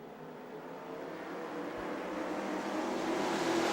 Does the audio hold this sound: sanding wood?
no